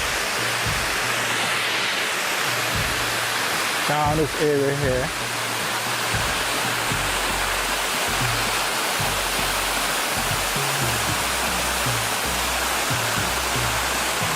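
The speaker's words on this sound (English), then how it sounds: "Listen to the water's flow" Water flowing down a stream through a ravine in a wilderness area makes a steady, broadband rushing wash that stays constant throughout, with someone talking briefly over it.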